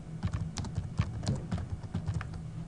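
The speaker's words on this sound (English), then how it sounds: "as I'm typing on the fly, the text actually gets added to the drawing" Typing on a computer keyboard, a quick irregular run of close, soft key clicks and taps with no voices.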